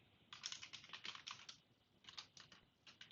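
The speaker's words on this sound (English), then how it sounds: "typing worksheets and then the worksheet name" Quiet computer keyboard typing in two quick bursts of rapid clicking keys, close but faint, separated by a short pause, with no speech.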